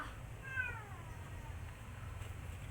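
A pet cat gives a single faint, short meow at a distance over steady low background rumble, with no talk.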